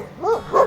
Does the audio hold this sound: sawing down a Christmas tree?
no